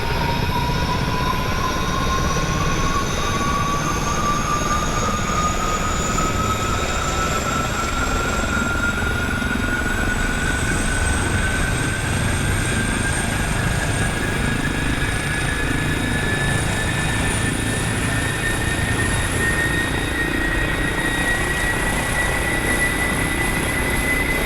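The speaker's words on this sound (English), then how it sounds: "Engine is revving up." An aircraft engine revs up as a steady, loud drone, its whining tone climbing slowly and smoothly in pitch throughout, with no talking over it.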